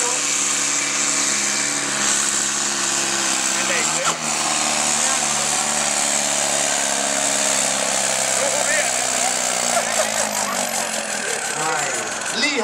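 A pulling tractor at a night power pull in Sdr. Hygum revs hard with a loud, rising and falling engine roar, with a commentator talking over it throughout.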